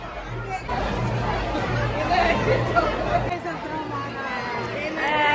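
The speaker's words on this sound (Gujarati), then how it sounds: "અત્યારે ભીડ તો જો તમે લોકો" Dense crowd of devotees at Santram Maharaj temple in Nadiad on Poshi Poonam, a close, steady babble of many overlapping voices with a low hum beneath, continuing throughout.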